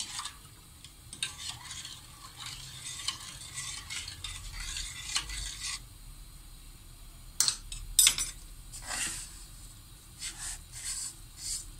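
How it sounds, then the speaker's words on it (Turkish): Semolina toasting in a pan for helva, stirred with a spoon in short scraping bursts, close and fairly quiet, with a few sharper clinks near the middle and soft rustling pauses between. "karıştırıp irmiklerin kızarmasını sağlayacağız"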